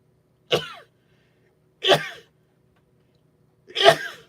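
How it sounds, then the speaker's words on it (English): Three sharp, explosive sneezes spaced evenly apart, each a short burst followed by quiet, close and fairly loud. "Oh, I'm gonna sneeze."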